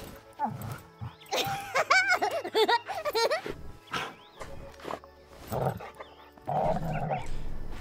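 Dog barking and growling in the video game Last Day of June, several close, loud bursts with game music and effects mixed in.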